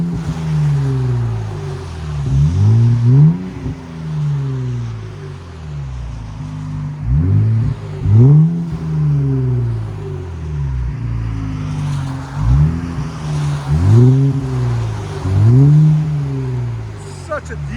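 A 2023 Nissan Z with a 3.0-liter twin-turbo V6 and an aftermarket cat-back exhaust revs repeatedly, giving a loud, close, deep-toned rise and fall several times over an idling drone on a rainy day.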